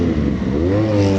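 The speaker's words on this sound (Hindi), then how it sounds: "heavy bike" A heavy motorcycle's engine revs loudly at close range on a busy boulevard in Lahore, its pitch rising smoothly and then holding steady as it pulls away.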